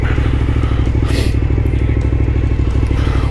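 Close-up on a motorcycle ridden in cold weather, the engine gives a steady loud, rapidly pulsing drone mixed with wind rush and faint clatter throughout.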